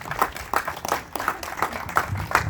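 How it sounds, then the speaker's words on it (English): Applause from an audience at the Clark Centre for the Arts opening in Guild Park and Gardens, Scarborough, Ontario, heard as a steady stretch of scattered, uneven clapping with distinct individual claps rather than a dense roar. "Big round of applause."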